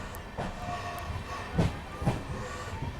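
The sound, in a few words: Amrit Bharat Express train moving onto loop line at station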